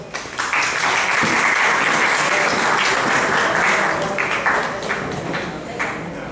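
Sustained applause from the audience at a mushaira poetry gathering, a dense steady clapping lasting throughout, welcoming a guest to the stage, with a few louder individual claps standing out.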